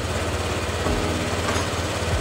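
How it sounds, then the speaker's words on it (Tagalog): A Honda Click 125 motorcycle engine, after a lifter tensioner replacement, runs with a rough, steady idling rumble, loud and close, with no one talking. "So okay na, buhayin na natin yung makina."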